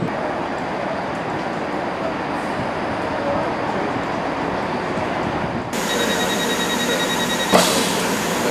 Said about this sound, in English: I'm waiting for the 10:46 Great Western Railway service to Severn Beach